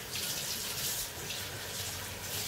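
Water poured into a cooking pot over meat for a Moroccan tajine, a steady, continuous rushing pour held close and fairly loud for the whole stretch, with no voices.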